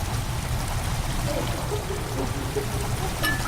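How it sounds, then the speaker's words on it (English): Water steadily pouring and filling a chamber in the horror video game Amnesia: The Dark Descent, a continuous rushing stream with faint trickles and drips, with no voices. "The water has begun to slowly fill the chamber."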